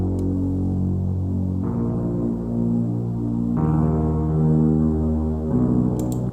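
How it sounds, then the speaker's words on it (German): A synth bassline from a song remake plays alone as steady sustained low bass notes, stepping in pitch every couple of seconds, with no chords or talk. "Das ist jetzt nur die Bassline, also wirklich das Grundgerüst, noch keine Akkorde"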